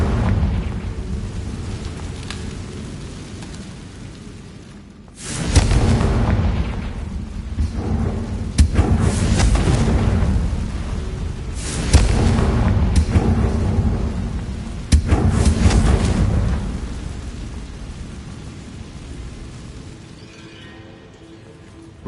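Confringo fire spells from Hogwarts Legacy burst in four loud, booming explosions a few seconds apart, each a sharp crack followed by a rolling roar over a steady low background.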